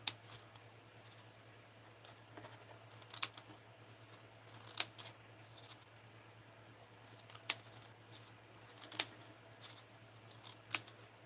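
Small scissors snip in sharp, separate clicks every second or so, close up and fairly quiet over a steady low hum, with no talking.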